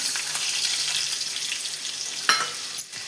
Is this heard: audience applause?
no